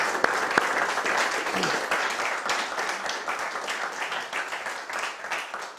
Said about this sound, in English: you're welcome to clap